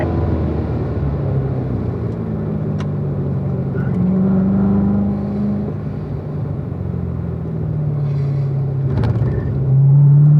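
A race car engine at Spring Mountain pulls hard on the track, a loud, steady rumbling drone with rising pitch sweeps as the car accelerates, heard from inside the car over about ten seconds.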